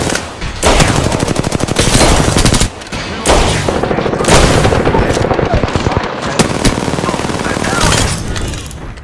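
Rapid automatic gunfire rattles in Apex Legends, long loud bursts broken by brief pauses, with a voice speaking under the shooting.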